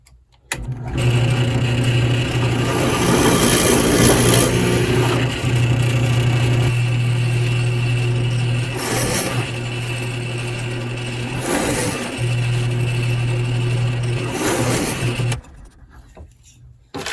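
Power drill boring holes in wooden spice rack pieces, a loud steady whining motor running for long stretches with brief pauses between bursts, ending in quiet.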